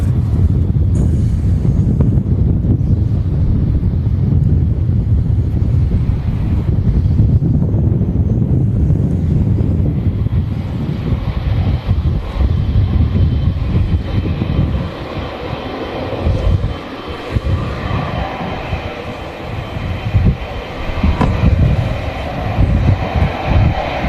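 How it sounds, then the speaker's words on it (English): A Qatar Airways Boeing 777 taxis at Manchester Airport, its engines a loud, continuous low roar and whine that slowly shifts as it rolls past nearby. "Can have a great view of the Qatar triple taxiing back past us."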